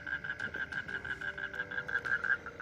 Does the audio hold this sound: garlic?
no